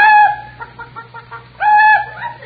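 On an old radio comedy show, a man imitates a chicken with his voice: a loud drawn-out squawk, a run of quick clucks, then another squawk, close and clear.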